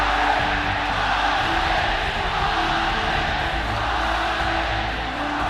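Home crowd at the Mid-Season Invitational esports event in Shanghai roars steadily after a close League of Legends game, a dense, continuous wash of cheering and shouting throughout.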